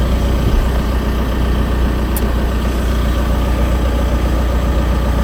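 A parked truck's engine idles steadily in a forest setting, a loud continuous low rumble holding even throughout with no pauses and no voices.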